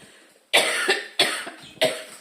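Three forceful coughs spaced about half a second apart, each a harsh burst followed by a raspy tail, close to the listener.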